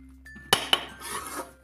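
A metal spoon clinks twice against a steel vessel while homemade desi ghee is spooned into flour for laddoos, two sharp close clinks followed by soft scraping.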